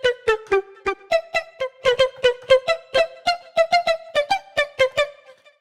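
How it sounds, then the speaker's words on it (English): Vocal resynthesis synth lead built in Harmor, a run of short, choppy voice-like notes in a bouncy rhythm, dry and fairly quiet, heard alone. "it's a vocal resynthesis I did in Harmor, and it sounds like this"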